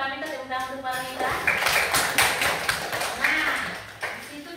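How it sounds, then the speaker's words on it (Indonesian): An audience applauds for Paramita at a training session, the clapping rising after a short spoken line and continuing as a dense, steady patter to the end. "Tepuk tangan untuk Paramita."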